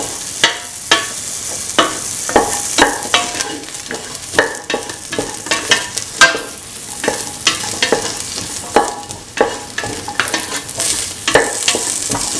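Chillies sauté in a hot pan, frying with a steady bright sizzle while a utensil stirs and scrapes, leaving rhythmic clacks and scuffs every second or so, close and fairly loud.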